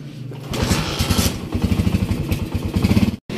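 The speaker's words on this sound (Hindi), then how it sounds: "बाइक को थोड़ा सा स्टार्ट कर लेते हैं ताकि गर्म हो जाए" Motorcycle engine started and left idling to warm up on a cold, foggy morning in Peshawar, a loud, close, rapidly pulsing putter with a clattering rhythm that cuts out briefly near the end.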